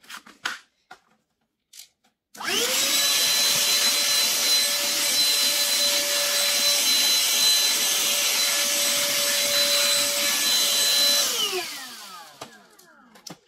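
A handheld vacuum cleaner with a small crevice nozzle runs along hollowed tile floor joints, whining steadily and loudly for about nine seconds with a clear tonal hum before spinning down, with faint clicks before it starts.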